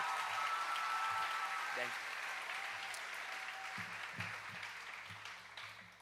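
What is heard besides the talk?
applause for the class vice president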